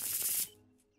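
A short burst of playing cards being shuffled in a PC horror game: one dense, loud rustle for about half a second, then it cuts off and soft tonal game music carries on alone.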